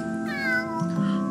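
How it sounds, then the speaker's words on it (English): A calico cat meows in the video game Calico, a single drawn-out, rising and falling mew lasting about a second, close and clear over a steady tonal music bed. "Another calico cat."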